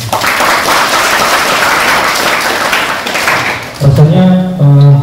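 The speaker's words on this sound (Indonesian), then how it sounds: "Tepuk tangan dulu untuk kita." A student leadership training opening ceremony audience applauds in a loud, dense wash of clapping for about four seconds, then it fades as music with steady tones comes in at the end.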